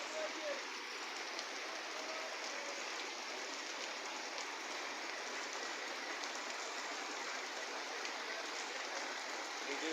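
Rain falls steadily in Mirpur 10, a dense, even hiss of drops that holds at the same level throughout with no break.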